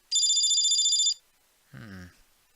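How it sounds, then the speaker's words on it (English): A phone in the game Steins;Gate 0 rings with one burst of bright electronic trilling lasting about a second, close and clear, followed by a short spoken voice line. "But then someone's phone rang."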